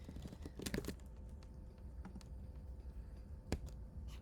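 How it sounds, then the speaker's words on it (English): Someone types on a computer keyboard at close range, with quick clusters of key clicks followed by scattered single taps and a louder stroke near the end, all quiet in a calm room. "this is quite a lot to type out"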